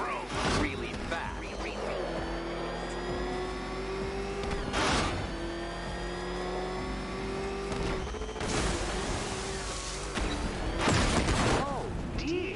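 Batmobile engine in the Batman Arkham Knight video game, a sustained droning engine tone that rises and holds with revving surges and impact bursts, over game music and character dialogue.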